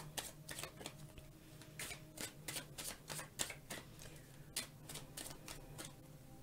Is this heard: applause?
no